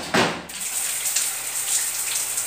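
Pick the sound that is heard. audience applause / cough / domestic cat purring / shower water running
shower water running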